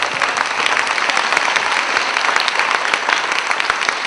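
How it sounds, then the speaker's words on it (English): A large audience at an evening presentation event claps in a full, even round of applause, dense and sustained from start to finish with no talk over it. "Shall we give him another round of applause?"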